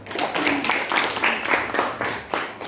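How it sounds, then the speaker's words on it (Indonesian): Brief burst of clapping from a classroom group after a student team presents its experiment results, a few seconds of uneven hand claps with some voices mixed in. "Tepuk tangan dulu."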